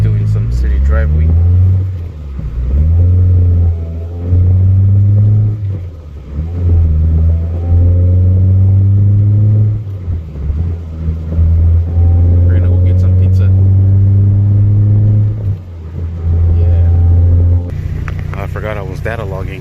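A tuned car cruises through city streets, its engine rising and falling in repeated revving pulls with a steady low drone between shifts, loud and close throughout, ending with a brief change in tone near the finish.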